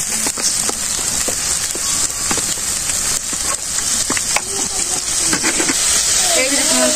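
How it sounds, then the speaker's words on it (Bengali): Pointed gourd dolma masala sautés in a pan in a village kitchen, a steady bright sizzle with scraping and stirring clicks, a voice talking over it near the end. "এখন ভালো করে আমি কষাই নিই।"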